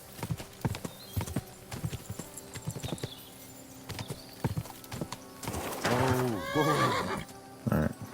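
A horse in Kingdom Come: Deliverance 2 trots with rhythmic clip-clop hooves, then lets out a loud, drawn-out neigh near the end, followed by a short snort, all close and with no talk.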